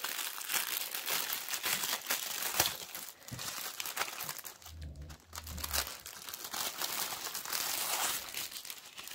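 Crinkly plastic packaging of a cross-stitch kit being handled and torn open, with continuous close rustling and crumpling throughout, briefly dipping midway, with no talking.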